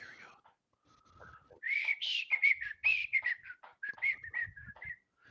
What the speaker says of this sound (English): why are you whistling so much?